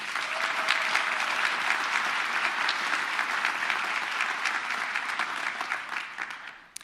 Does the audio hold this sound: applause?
yes